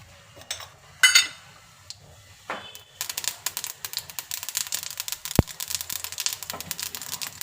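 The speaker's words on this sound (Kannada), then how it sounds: "ಈಗ ಸಾಸಿವೆ ಹಾಕಿದ್ದೀನಿ." Mustard seeds tossed into a hot pan while cooking a Kannada-style sundekai gojju: a dense, near, crackling spatter of rapid pops and clicks builds after a few clinks of utensils and keeps going steadily.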